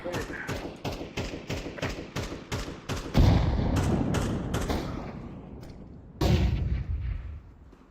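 Grenade blasts in the Valorant video game: after a rapid string of sharp gunshots, a heavy booming explosion rolls out and fades, followed by a second loud blast later, with players talking around the action.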